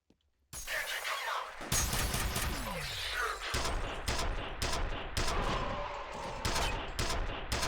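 Rapid gunfire and bursts from the first-person shooter FEAR, loud and dense with repeated sharp shots, impacts and debris clatter running nearly continuously.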